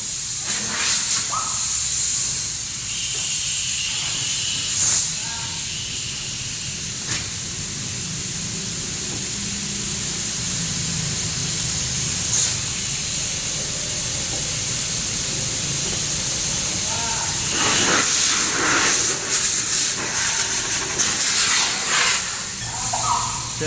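Compressed air blasts dust off a car engine in loud, hissing bursts, several long sprays with shorter pulses near the end, echoing in a workshop without talk.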